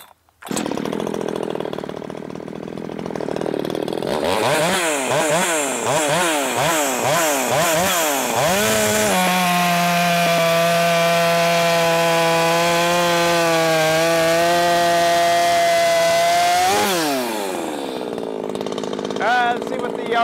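Ported Shindaiwa 600SX chainsaw starts and revs in rising, falling bursts, then holds a loud, steady high-pitched scream at full throttle before dropping back to a rough idle, close up and dominating.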